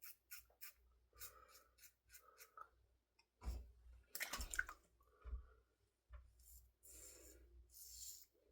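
An aluminum safety razor scrapes across a face in short rasping strokes, some firm and dense, others lighter, separated by brief pauses, close and fairly quiet with no talking.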